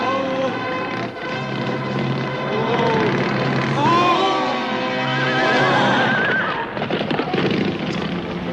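A horse whinnies loudly in several rising and falling calls over busy background noise, with hoofbeats and voices mixed in.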